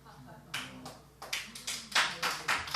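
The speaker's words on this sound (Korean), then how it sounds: "여기는 박수를 쳐주네. 딴 데서는 박수도 안 쳐주더라고." An audience claps at a church testimony talk, heard as a short spell of scattered, fairly faint applause that builds into a rhythmic run of claps in a hall, with a voice murmuring underneath.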